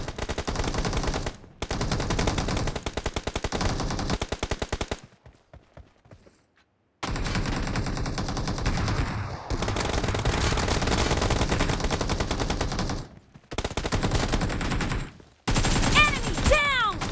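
Bursts of automatic gunfire in the PUBG mobile game, rapid loud volleys separated by short silent gaps, with a few clicks and thuds near the end.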